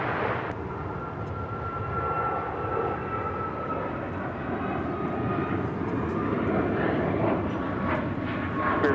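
An American Airlines airliner takes off from runway 25 right at LAX, its engines building into a loud, sustained roar that swells and holds steady, with a tonal whine riding on top.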